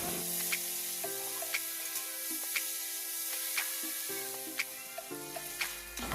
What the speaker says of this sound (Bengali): মাখানো চিংড়ি মাছটা কড়ার মধ্যে দিয়ে নাড়াচাড়া করে ভেজে নেব